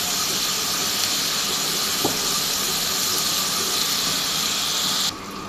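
Masoor lentils fry in a pan with ginger and garlic paste, giving a steady, loud sizzling hiss that fills the whole stretch and drops off slightly right at the end.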